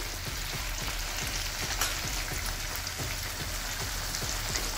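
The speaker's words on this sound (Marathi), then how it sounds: "चांगलं परतू दे दोन्ही।" Vaghatya vegetable sautés in a pan on the stove with a steady, close sizzle and spatter, plus faint repeated scraping ticks as it is stirred.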